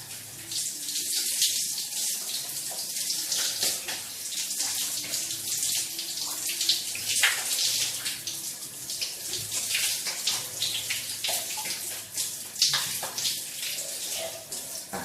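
Tap water runs steadily with splashing while a face is washed with a bar of soap, giving a continuous close hiss of water and no talking.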